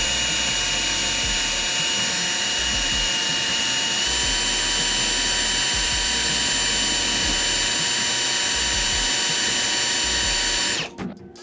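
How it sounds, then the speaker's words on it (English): A drill press runs continuously while drilling into a guitar neck that has a metal rod through it, a steady loud whine with strong harmonic tones that cuts off abruptly near the end. "Now we do have this really nice drill press. I'm going to work with it balanced on the neck."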